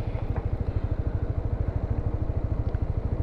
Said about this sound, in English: we start the bike again.